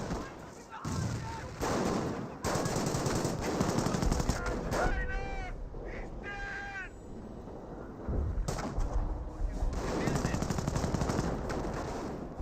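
Video game gunfire from a Company of Heroes 1 battle, with machine gun bursts and rifle shots rattling almost without pause and loud throughout, while a commentator talks over it and brief whistling shell sounds cut through midway.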